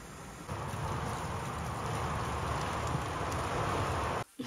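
Steady, heavy rain pours down continuously, a dense hiss of drops on surfaces, close by, with no voices.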